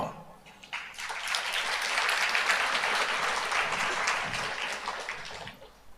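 A crowd applauding steadily, dense clapping that swells quickly and holds for several seconds before tapering off near the end.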